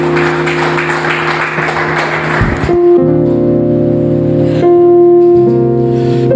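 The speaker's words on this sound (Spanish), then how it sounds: "Dale un aplauso al Rey de Reyes y ponte de pie." A church congregation applauds the King of Kings while rising to its feet: dense, steady clapping over keyboard music for about two and a half seconds, then the clapping fades and sustained held music chords take over.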